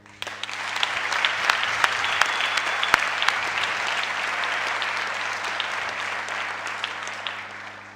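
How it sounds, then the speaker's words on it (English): Audience at a BMW X3 launch at the Rosslyn plant in South Africa applauding the plant associates, a steady, sustained wash of many hands clapping in a large hall, even in loudness from start to finish. "Can we offer a round of applause for our associates?"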